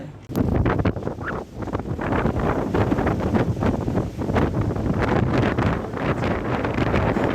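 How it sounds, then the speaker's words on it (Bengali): Strong, continuous wind buffeting the microphone outside a houseboat on wave-tossed water in West Bengal, a loud rumbling roar with gusty surges throughout. "বুঝতেই পাচ্ছেন প্রচুর হাওয়া আমার কথা শোনা পর্যন্ত যাচ্ছে না"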